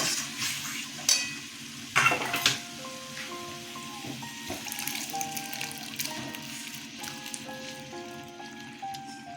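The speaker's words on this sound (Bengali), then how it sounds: "এবার আমি মটরগুলো ঢেলে দেবো" Dried peas tip into a hot pan of spiced ghugni base with garam masala, giving a couple of sharp rattling bursts followed by a steady soft sizzle and stirring, with faint tonal notes in the background.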